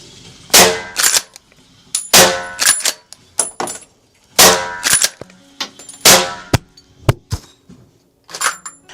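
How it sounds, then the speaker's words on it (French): A rifle fires at a running boar target during a shooting session. Several sharp, loud shots come in irregular succession, each followed by a short ringing decay, with smaller clicks and knocks between them. "je remets 4 munitions dans la carabine et on fait notre dernier passage au sanglier courant"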